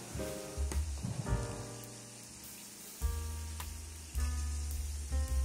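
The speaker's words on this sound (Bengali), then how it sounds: "এরপর দিলাম ঝিঙের টুকরোগুলো।" Pieces of ridge gourd dropped into hot oil and frying, a close, crackling sizzle that flares up several times as more pieces go in, with a low background hum underneath.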